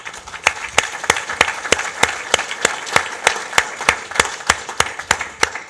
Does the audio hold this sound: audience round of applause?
yes